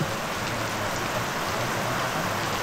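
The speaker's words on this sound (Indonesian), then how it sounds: "Inilah suasana kalau hujan di lingkungan pengajian anak-anak" Steady rain pours outside a children's Quran study area, a dense even hiss of falling drops with no voices and no pauses.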